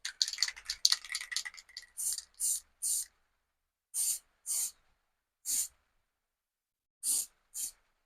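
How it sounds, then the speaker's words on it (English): Black spray paint is sprayed onto a file being made into a dagger, as a series of eight short, sharp hissing bursts with brief pauses between them, preceded by a couple of seconds of light rattling and handling noise. "I just need to go grab some spray paint, and we're going to quickly spray this black."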